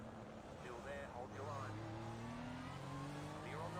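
GT3 race cars in the iRacing video game, including a Ferrari and a BMW, drone and whine as engines rev and shift together, a faint pitched engine tone rising and falling beneath speech.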